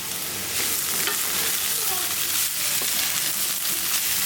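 Potato bhaji sizzles in a pan, a loud, continuous frying hiss broken by occasional stirring scrapes, close by and with no talk over it.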